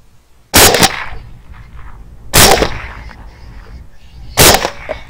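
Three loud, sharp rifle shots fired at wild boars in a winter wheat field, spaced roughly two seconds apart, each cracking out alone and trailing off into a brief echo.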